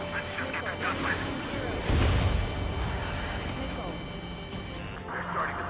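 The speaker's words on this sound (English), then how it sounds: "They're starting to fire blindly at us." Enemy artillery fires blindly during an Ace Combat 7 campaign mission, a deep booming blast rising out of a dense rumbling battle din, with aircraft noise throughout and radio voices talking over it.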